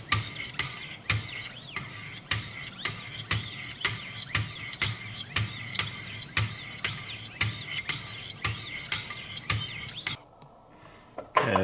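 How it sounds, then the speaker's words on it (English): A Schrade Old Timer knife blade is drawn over Wicked Edge sharpening stones in steady, evenly spaced rasping strokes about every half second, close and fairly loud, ending in a brief pause before one last stroke. "I like to work up and down a little bit and just go once across or twice across the tip."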